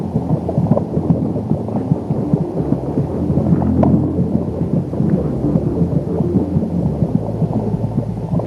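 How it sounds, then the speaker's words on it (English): Heartbeats heard from inside the womb, a fetal heart racing at twice the mother's rate alongside hers: muffled low thuds and throbbing pulses under a constant dull rumbling wash, loud and enveloping, with no voices. "She will also hear the competing thuds of heartbeats"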